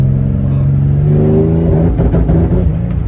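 Nissan G35 Coupe with an engine swap revving hard with anti-lag, a loud close roar rising in pitch, then turning into crackling, popping bursts from the exhaust in the last second.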